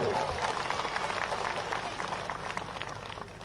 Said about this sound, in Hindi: ताली बजाओ जो।